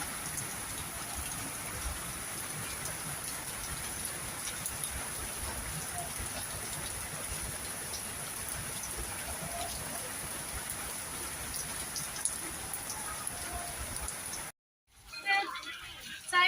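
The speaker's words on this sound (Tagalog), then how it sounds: "Lakas ng ulan" Steady, dense rain under an orange heavy-rain warning in Bulacan, Philippines, hisses without letup for most of the stretch, then cuts out briefly before some clattering noise returns.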